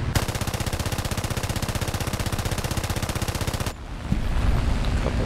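Rapid, steady bursts of machine-gun fire from a Gladiator Mk I biplane shooting at a Bf 109 in War Thunder, a loud continuous stream of shots lasting several seconds before cutting off into engine and wind noise.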